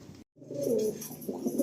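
A pigeon in a breeder loft gives a soft, close, throaty coo after a brief silence, with a lower second coo following; no one speaks.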